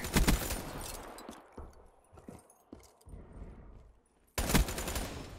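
Shotgun blasts in the first-person shooter Black Ops 3, heavy booming bursts opening and closing the moment with quieter gunfire and game clatter in between.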